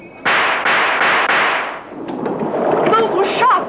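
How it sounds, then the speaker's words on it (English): Several loud, sharp gunshot bursts from a film soundtrack ring out in quick succession, each with a short tail, before fading into muffled film noise and faint dialogue, with a voice speaking in the background. "Those were shots. I heard them clearly."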